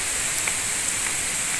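Heavy rain falls at a temple in Bargarh, a steady dense hiss of downpour close by with no voices.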